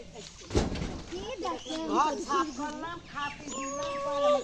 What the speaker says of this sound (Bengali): মুরগি খাচ্ছে